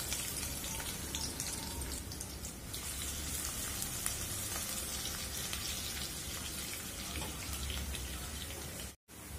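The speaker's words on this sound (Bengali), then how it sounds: "তেলটা গরম হয়ে গেছে, আমি দুইটা ছোট সাইজের পেঁয়াজ কুচি দিয়ে দিব।" Two small chopped onions frying in hot oil in a pan, giving a steady, even hiss and crackle, rather quiet, that runs unbroken for the whole clip with no talking.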